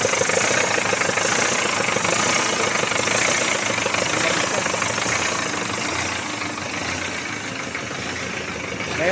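A freshly started engine idles steadily during troubleshooting, a continuous mid-pitched rumble with a faint knocking texture that holds steady at close range and then eases slightly near the end.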